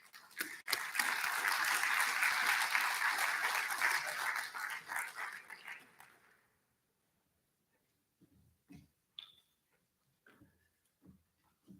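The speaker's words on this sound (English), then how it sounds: "Let's give him a warm round of applause." Warm audience applause at a clean heavy-duty vehicle summit keynote, loud dense clapping that swells, holds for several seconds, then tapers off into near silence with a few scattered soft sounds.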